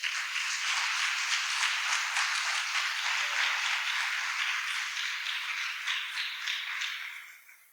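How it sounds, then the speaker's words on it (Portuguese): A church congregation bursts into sustained, dense applause, many hands clapping steadily and loudly for several seconds before fading out at the end. "Quem crê, dá um aplauso a Jesus."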